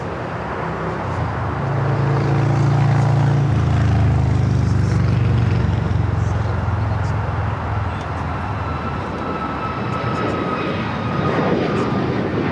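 Alaska Airlines jet on its takeoff roll from runway 25 right at LAX, a loud sustained engine roar that swells and holds, with a broad rumbling wash and a rising whine, no voices.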